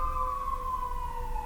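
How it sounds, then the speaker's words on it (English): Ambulance siren passing outside, a steady wailing tone sliding slowly downward in pitch as it moves away, loud over low traffic rumble with no voices. "hold for ambulance"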